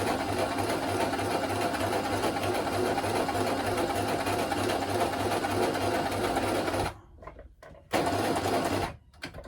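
A sewing machine stitches around a hand-made teddy bear seam, a steady loud mechanical whir running continuously before cutting off abruptly near the end, with a brief restart.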